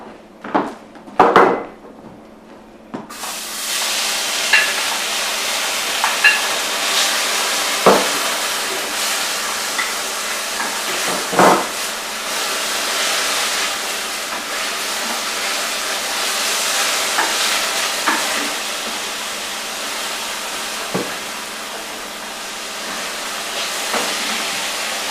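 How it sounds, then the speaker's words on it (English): Onions and garlic frying in a pan make a loud, steady sizzling hiss that starts after a few sharp clatters and runs on with occasional stirring knocks. "And we're going to fry the onions and the garlic."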